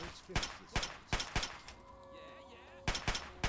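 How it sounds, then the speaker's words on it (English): Gunshots in Fallout: New Vegas, a series of sharp loud reports in quick bursts of two and three, with a pause in the middle before more rapid shots close it out. "Let's shoot him in the head."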